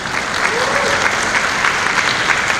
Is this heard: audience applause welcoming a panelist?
yes